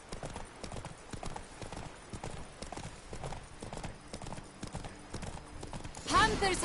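Steady clip-clopping of a horse's hooves in The Witcher 3, moderately loud and continuous, with voices talking over it near the end.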